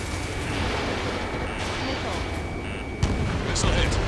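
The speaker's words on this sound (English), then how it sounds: "Missile hit." A missile striking its target in the Ace Combat 7 jet combat game: a sudden explosive thump near the end, under constant engine roar and radio voices.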